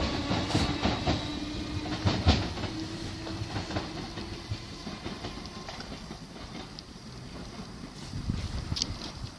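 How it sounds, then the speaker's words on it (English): A Merseyrail class 507 passenger train rumbles and clatters steadily nearby, departing the station for Southport, with broadband rolling noise and faint squeals as it pulls away. "there goes the train that brought us in from Liverpool South Parkway, which is the 507018 back to Southport"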